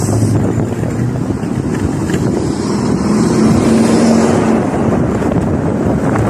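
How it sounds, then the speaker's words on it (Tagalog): Strong wind roars steadily against the microphone, a loud continuous rumble with a faint engine-like hum underneath and no talking. "Mahangin."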